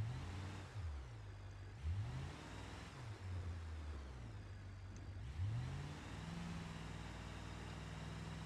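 Car engine in the driving simulator BeamNG Drive, faint and steady, with the revs rising and dropping repeatedly through gear changes as the car accelerates.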